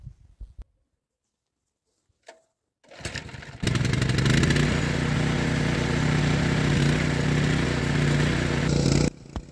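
An Oka walk-behind tractor tilling soil before potato planting: after brief quiet and a few faint knocks, the engine kicks in loud and steady, a continuous close-up drone with a rough throbbing undertone that runs for about six seconds, then cuts off.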